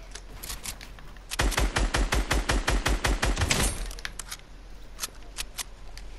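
A rapid burst of Fortnite gunfire, about a dozen sharp shots in quick rhythm for two seconds, loud and close, followed by faint scattered clicks.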